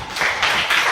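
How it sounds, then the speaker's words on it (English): Students in a mathematics class clap for a classmate in a short, loud burst of applause lasting about a second, with no talking. "Clap for him."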